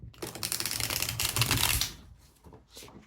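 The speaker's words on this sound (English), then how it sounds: "let's shuffle the cards here" Tarot cards being shuffled by hand, a rapid papery riffling flutter that swells loud for about two seconds, then drops to softer scattered card flicks and a final brief burst.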